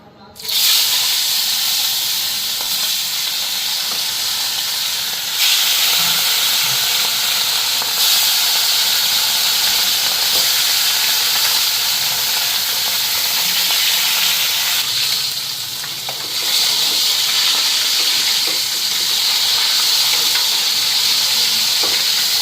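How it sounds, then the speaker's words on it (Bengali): Pieces of catla fish, rubbed with salt and turmeric, fry in hot oil with a loud, steady sizzle and hiss that runs without a break the whole time. "তো ওইদিকে মাছের এক পিঠ ভাজা হয়ে গেছে, আর এদিকে আর এক পিঠ হইব।"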